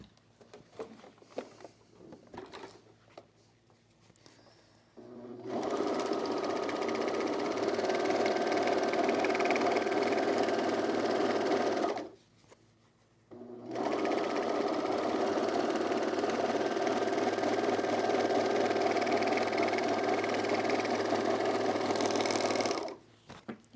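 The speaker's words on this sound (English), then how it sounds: "let's go to the overlock, and I'm going to overlock this round edge here." An overlock serger runs in two long continuous bursts as stiff denim feeds through along a curved jeans edge, a steady loud motor whir with fast stitching clatter and a short pause between runs, no talk.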